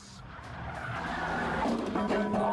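Tires squeal in a sustained handbrake skid over a loud, straining Renault Twingo RS engine, building steadily in intensity.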